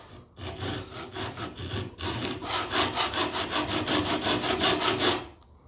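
A whittle knife's edge bevel is ground at a steep angle with steady rhythmic back-and-forth rasping strokes, close and fairly loud, pausing briefly near the start before a faster even run.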